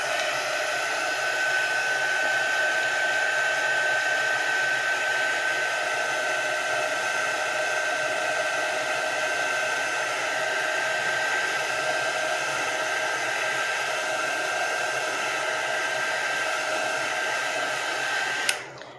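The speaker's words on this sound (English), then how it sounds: "Let me heat set this really quickly because masking tape is not going to stick to wet ink." A heat tool blows a loud, steady whine and rush of air, unbroken for about eighteen seconds while drying wet ink on a card-making scene, then cuts off abruptly.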